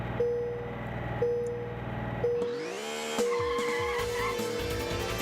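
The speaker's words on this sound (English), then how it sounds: "Listen to that, our new engine." New engine of a small race car in the PS1 racing game Penny Racers, a steady buzzing drone with periodic gear-shift dips, then skidding and rising revs, loud and up close.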